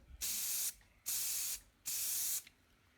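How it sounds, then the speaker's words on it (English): Three sharp bursts of aerosol spray hiss from a spray paint can used for stenciling, each about half a second long, separated by brief pauses, close and clear. "You can kind of spray your paint and get an idea of how far it's going"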